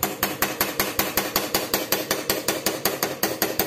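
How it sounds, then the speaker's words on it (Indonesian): A pointed screwdriver is hammered against a stuck disc brake bleeder nipple bolt, giving a fast, even run of sharp metallic taps, about five per second, close and loud with nothing else over them. "ini baut nepalnya ini nih kita pukul menggunakan obeng yang runcing kayak gini nih"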